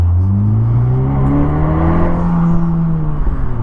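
A 2020 Vanderhall Carmel's turbocharged 1.5-liter inline four-cylinder engine, shared with the Chevy Cruze, revs up and holds a steady rising drone, loud and close, with no talking.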